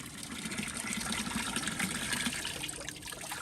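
Spring water at Kaniwash in the Barzan area of Kurdistan trickles and gushes steadily as visitors drink and wash their faces, a close, continuous splashing flow with no talk.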